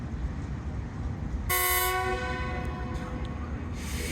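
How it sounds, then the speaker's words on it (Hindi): A train departure horn sounds at Lahore Junction platform on a foggy day: one loud, sustained blast of about a second over the hum and murmur of the station. "डिपार्चर हॉर्न हो गया।"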